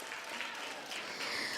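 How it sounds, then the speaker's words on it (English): An audience at a health training centre graduation ceremony applauds prize-winning students, a soft, distant-sounding burst of mixed clapping that lasts only a moment. "let's give all of our prize students a round of applause"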